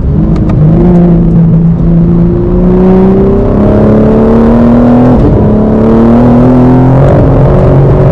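A BMW M4 CSL on a racing circuit, engine loud and close, revving and rising through the gears with a brief dip as the wheels spin on a change of surface.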